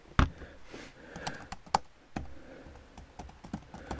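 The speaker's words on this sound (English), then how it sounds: "And of course we have this keyboard" Someone taps keys on a translucent iBook G3 Snow laptop keyboard, an irregular run of close clicks with a few sharper, louder presses standing out against a faint background hush.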